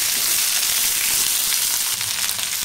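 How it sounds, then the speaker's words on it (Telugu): Ivy gourd pieces sizzle steadily with onions in a hot pan, a constant close frying hiss with no voices. "ఉల్లిపాయలు కొంచెం వేగిన తర్వాత దొండకాయల్ని ఇలా చిన్న ముక్కలుగా తరుక్కొని వేసుకోవాలి"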